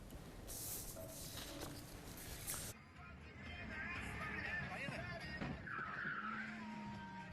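A VAZ-2109 crosses into oncoming traffic and collides with a Lada Priora on a road in Ingushetia. The skid and impact come as a loud, sustained broadband rush of tire and crash noise lasting several seconds.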